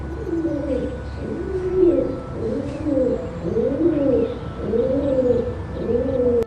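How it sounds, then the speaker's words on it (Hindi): A pigeon coos repeatedly in soft, rolling phrases, close and steady, with no talking. "बच्चों नाम है इसका कबूतर।"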